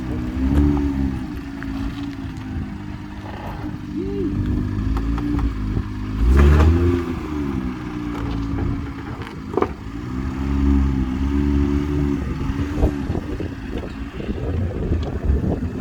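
A BMW M2 drives along with a steady engine drone that rises and falls as the engine revs, plus wind buffeting at the microphone and no talking.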